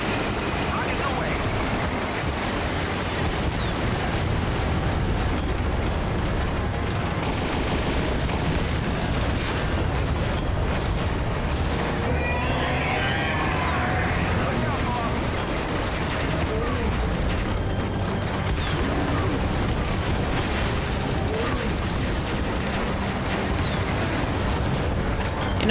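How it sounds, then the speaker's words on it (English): Rockets fired from a helicopter in Metal Gear Solid V: The Phantom Pain, a dense, sustained rumble of launches and explosions with mechanical clatter running throughout. "Rockets away."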